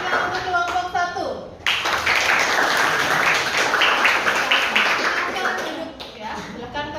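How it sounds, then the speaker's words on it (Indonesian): A classroom audience applauds a student group after their presentation, a dense burst of clapping hands that rises abruptly and holds steady, with a brief voice heard before it begins. "Ya, terima kasih, tepuk tangan."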